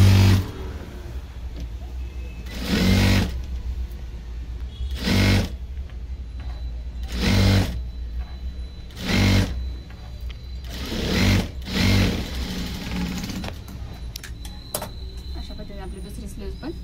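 A sewing machine double-stitches a blouse sleeve in a series of short bursts, about seven or eight close whirring runs separated by pauses.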